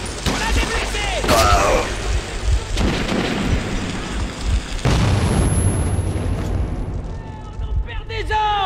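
A grenade detonates in the shooter game Metro 2033, a loud booming blast amid ongoing gunfire and battle noise, with shouting voices over the chaos.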